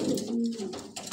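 A pigeon cooing close by, a short low throaty coo lasting about a second, heard alone.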